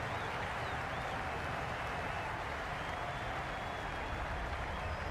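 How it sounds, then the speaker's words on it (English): Steady crowd roar and cheering from the stands at a simulated women's T20 cricket match, Australia versus England, in a video game, a constant dense wash of noise with faint whistles, fairly quiet throughout. "The crowd are really getting quite raucous."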